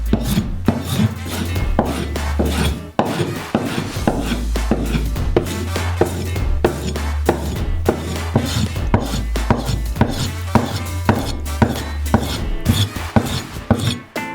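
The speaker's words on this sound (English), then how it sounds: "Cut them into small cubes." A knife chops tomato into small cubes on a board, making rapid, regular close-up knocks that run steadily throughout with only a brief break near the start.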